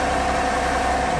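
A cold microvan engine with ice on its carburetor catches and runs, giving a steady, loud idling drone with a constant mid-pitched hum and faint vibration throughout.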